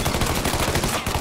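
Rapid gunshots in Mafia 3: Definitive Edition, a dense string of loud, close shots fired in quick succession with no pauses.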